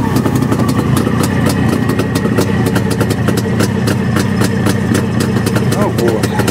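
A motorcycle engine just started and idling in a garage, a steady even low rumble with a fine rapid pulse, close and loud throughout, with a voice speaking over it.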